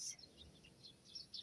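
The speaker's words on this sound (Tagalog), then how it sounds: "Mga ibon sa bukid, mga yan, mga kanelman." Small birds in rural fields in the province chirp in the afternoon, faint, brief high tweets scattered across the moment over a quiet outdoor background.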